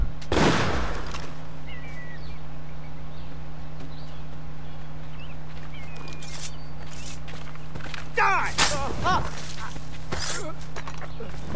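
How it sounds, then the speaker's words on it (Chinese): Gunfire in the video game Assassin's Creed IV Black Flag: a sharp shot near the start, then a cluster of shots and impacts later on, over a constant low in-game ambience with a faint game voice in between. "听到枪声，他们应该都会被引过来，"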